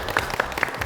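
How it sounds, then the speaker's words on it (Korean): Brief burst of audience clapping at a Korean event introducing newly hired researchers, a few quick claps at moderate volume lasting under a second. "박수 한번 보내주시죠."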